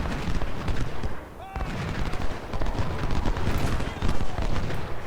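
Skirmisher cover fire in Ultimate General: Civil War at the Second Battle of Bull Run: a continuous crackle of musket volleys and distant booms rolls on throughout, loud and dense, with a short whistle partway through.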